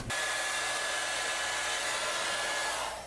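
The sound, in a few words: hair dryer drying paste on a carved elephant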